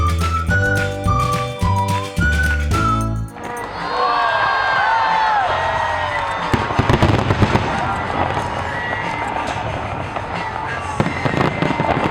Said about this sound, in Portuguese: Um dos maiores espetáculos que Sydney tem a oferecer é a queima de fogos no Ano Novo